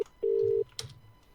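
A phone call rings out as a single steady electronic ring tone, with a brief blip before it, followed by faint background noise.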